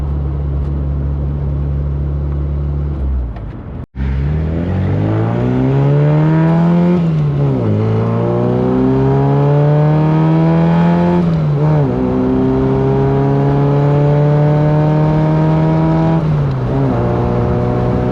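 A 1974 MG Midget engine pulls hard through several gears, each rising whine cut by a brief shift, loud and close from start to finish with no talking.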